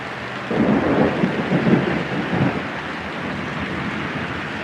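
Thunderstorm with heavy rain pouring down outdoors, a loud low rumble of thunder rolling through the first half and fading into steady hissing rainfall.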